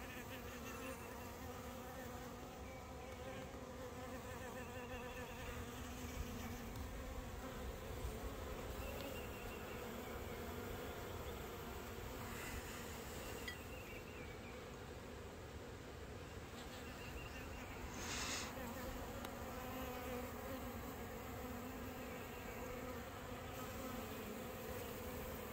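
Honey bees in a hive being given an oxalic acid dribble mite treatment fill the air with a dense, close, unbroken buzzing drone. The sound is steady and continuous, with no voices.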